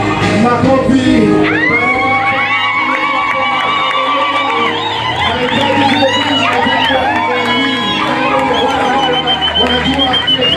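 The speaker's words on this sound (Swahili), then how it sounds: "Makofi" Wedding guests cheer and whoop loudly, their shrill rising cries and crowd noise running continuously at close range throughout.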